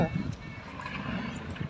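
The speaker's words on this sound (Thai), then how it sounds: "เสียงเรือ" A boat's low engine rumble carries steadily across the water at Ko Loi park in the evening, moderately close, with a brief voice at the start.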